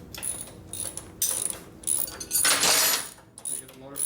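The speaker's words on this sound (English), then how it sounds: "Get the breaker bar." Socket wrench ratcheting on a bolt of a 1957 Harley panhead engine: several short bursts of clicking pawl sounds, close and moderately loud, with pauses between turns.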